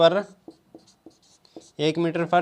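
Marker or chalk strokes on a board during a class-8 maths lesson, a few short, quiet scratches between stretches of a teacher's speech.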